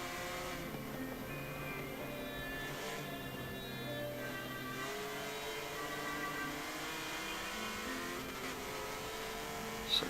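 BMW M3 race cars in a racing video game drone steadily, engines holding a sustained mid-pitched tone with gear changes and shifting revs as the pack circulates, moderately loud and continuous, with no talk.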